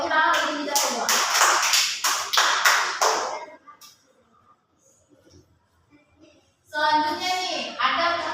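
Students in a classroom lesson clap their hands together, a few seconds of brisk, fairly loud group applause that fades out, then after a pause more applause mixed with cheering voices.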